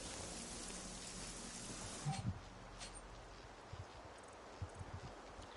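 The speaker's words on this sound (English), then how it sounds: "You can actually see it raining out there" Rain patters steadily in the Generation Zero video game, a soft continuous hiss with a few louder thumps and footstep-like knocks near the middle and end.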